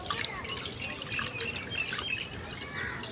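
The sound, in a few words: water being poured out for birds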